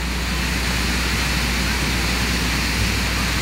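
A swollen, turbulent river roars during tropical storm Agatha, a loud, dense and unbroken rushing wash that fills the whole stretch.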